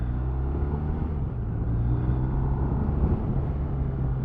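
Engine of a 2023 BMW R1250RS motorcycle on a national-speed road, pulling hard then backing off into second-gear engine braking, a steady loud low drone with rumbling harmonics throughout.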